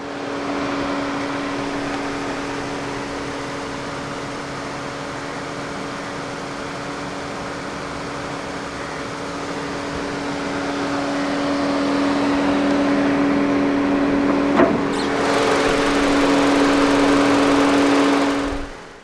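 A 2014 MINI Cooper Countryman's naturally aspirated 1.6-litre Prince inline-four, twin-cam and 16-valve, runs at a steady, even hum for the whole stretch. It swells slightly louder toward the end, with one brief click partway through.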